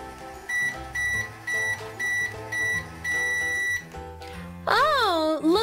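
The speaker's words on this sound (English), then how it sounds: "Alright, Rocky, in the microwave you go" A series of short, evenly spaced electronic beeps from a toy microwave, about eight in a row, followed by a warbling tone and music underneath.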